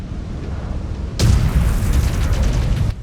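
Autocannon blown apart on a mech in the MechWarrior game: a sudden loud boom bursts in after a quieter stretch, then a broad roaring rumble sustains for nearly two seconds before cutting off.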